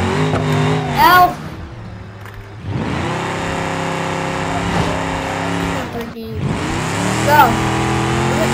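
Car engine revving in the BeamNG Drive driving game, a loud sustained drone that rises in pitch, cuts out briefly twice and then revs back up, with a person talking excitedly over it.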